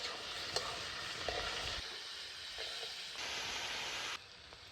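Mixed vegetables fry in white oil in a wok with garlic, giving a steady close sizzle and hiss with occasional scraping stir strokes; no voices.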